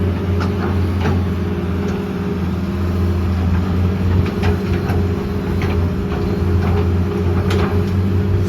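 A Hitachi ZX210-6 excavator's Isuzu 4HK1X diesel engine idles steadily and loudly nearby, a droning hum with faint clanks and ticks over it.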